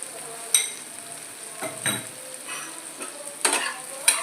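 Ground dry-roasted spice mix being stirred into a frying chana kofta curry, with soft sizzling under a series of scraping spoon strokes against the pan, about six distinct swipes.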